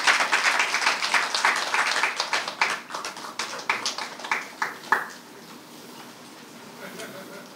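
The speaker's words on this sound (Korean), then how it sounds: "여연철 서울협의회 위원님을 큰 박수로 맞이해주시기 바라겠습니다" An audience at a workshop presentation welcomes a speaker with a burst of close, crisp handclapping that thins out and fades after about five seconds, leaving quiet room tone.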